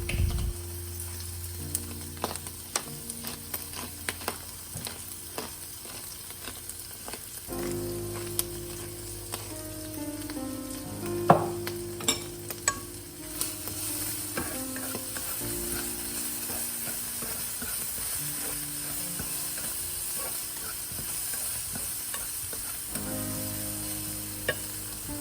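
Soya meat fries and sizzles in a pan with sesame oil and black pepper, a steady close hiss broken by repeated scraping and clinking as it is stirred, with no talking.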